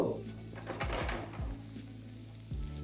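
Onions and carrots frying in a pan and being stirred, with a steady soft sizzle broken by several short scraping strokes of a utensil against the pan, close and without talk.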